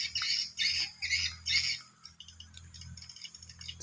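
Swiftlet calls played back at a nest house after rain: four loud, rasping squawk bursts in a steady rhythm, followed by fainter twittering chirps over a low background hum.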